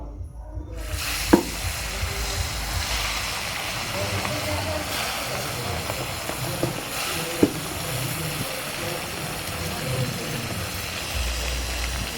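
Food fries in a pan with a steady hiss and sizzle, broken by occasional sharp clinks of a spatula stirring against the metal, continuing evenly throughout at moderate level.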